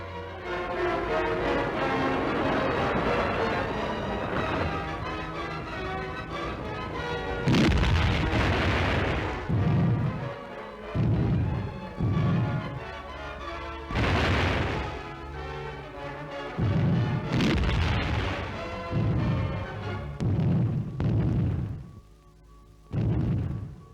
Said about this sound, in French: parmi les explosions de grenades